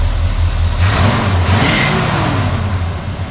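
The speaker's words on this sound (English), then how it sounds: "Go ahead and rev it up a little bit." Close to a 1976 Chevy C20 Cheyenne Camper Special pickup with dual Flowmaster exhausts, the V8 idles low, then is blipped twice in quick succession, each rev swelling loudly before settling back to a rumbling idle.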